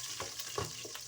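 Chopped garlic with cumin frying in a pan for dal makhani, giving a steady close sizzle with small crackles and a few stirring scrapes, with no talk.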